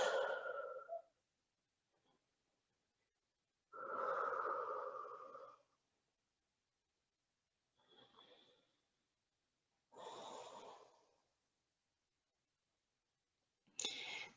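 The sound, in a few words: breathing during a yoga stretch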